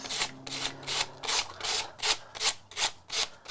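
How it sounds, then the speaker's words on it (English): Hand sanding of a craft surface in quick rhythmic back-and-forth strokes, around ten scratchy rasping passes close to the microphone, with faint background music beneath. "So I can get a nice clean edge when I'm sanding this off."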